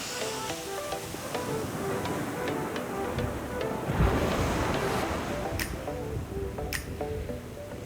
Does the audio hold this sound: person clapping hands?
no